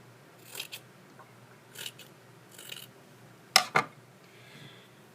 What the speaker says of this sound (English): I'm cutting off the excess in the back.